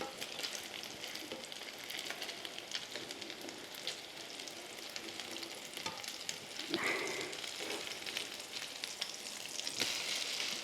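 Crab cakes made with Stovetop stuffing fry in a pan, giving a steady close sizzle with occasional crackles and a brief scrape as they are turned, no talk.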